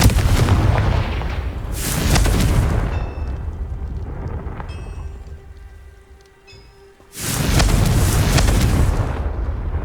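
Booming explosive blasts of the Confringo spell in Hogwarts Legacy, loud and close, two big detonations framing a quieter rumbling stretch with faint chimes and a brief near-silence.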